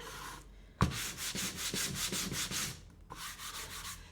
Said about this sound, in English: we're just going to go through our sanding, dig in nice and deep